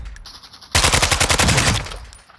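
A Khvostov 74U (AK-74U) in a Call of Duty game fires one loud, rapid automatic burst of about a second, preceded by quieter game sounds.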